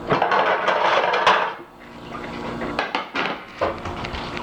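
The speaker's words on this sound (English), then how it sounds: "Let me wash my hands." Tap water runs steadily as hands are washed at a home kitchen sink, a full rush for about a second and a half, then a softer, broken splashing with a few louder spurts.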